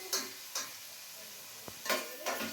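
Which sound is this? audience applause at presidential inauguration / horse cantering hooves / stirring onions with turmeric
stirring onions with turmeric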